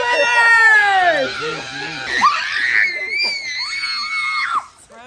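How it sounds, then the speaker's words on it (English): A person on a Florida holiday trip screams loudly and shrilly at close range in long, pitch-sliding bursts mixed with laughter, with other voices shrieking and laughing along over about five seconds. "Quit screaming."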